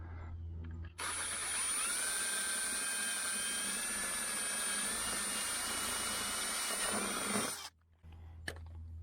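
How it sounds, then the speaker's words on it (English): A power drill bores through thin plastic while fitting a front camera to a car. Its high motor whine starts abruptly, holds loud and steady for about seven seconds, then cuts off. "So we're gonna have to drill another hole through that."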